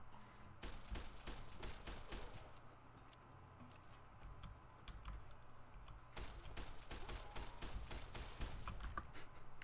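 Rifle fire in the video game Fallout: New Vegas comes in two bursts of rapid sharp cracks separated by a quieter stretch of low rumble, fairly faint overall with no talking.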